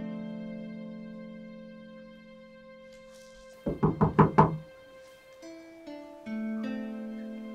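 Five quick knocks on a door in a tense Nigerian movie scene, a close, sharp burst of raps alone between stretches of sustained musical tones.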